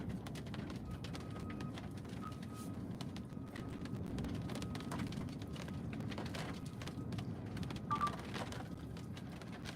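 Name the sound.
rain falling during Florida tornado storm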